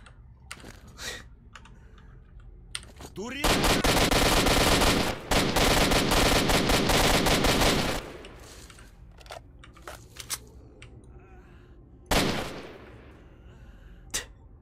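Sustained burst of automatic gunfire from a weapon in the first-person shooter S.T.A.L.K.E.R.: Shadow of Chernobyl, a dense rapid rattle lasting several seconds, followed by scattered single shots and a last loud crack.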